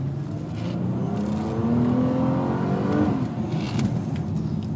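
A 2012 Nissan Maxima engine revs hard under aggressive acceleration on a rough little road, a loud, steady drone that climbs in pitch, drops back near three seconds, then holds on, with no voices.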